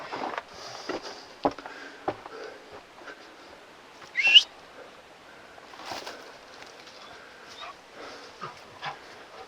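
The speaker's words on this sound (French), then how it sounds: "il y a un chien qui pleure parce qu'il n'arrive pas à monter" A dog whimpers and whines in thin, high, broken cries, unable to climb up while on a walk at an old mine, with scattered soft noises between the cries and one louder yelp midway.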